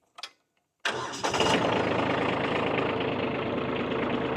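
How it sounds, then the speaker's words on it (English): Kubota B2601 compact tractor engine cranking and firing up after a brief click, then settling into a loud, steady diesel idle close by, with no voices over it. "Let me start the tractor and I'll show you."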